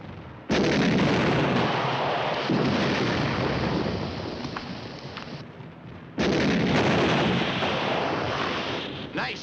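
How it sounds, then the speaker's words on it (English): Two high-explosive artillery rounds fire at a tree in a 1950s war film, each a loud, close, heavy boom followed by a long rolling rumble that slowly fades, spaced several seconds apart. "Fire 2 rounds of HE in them."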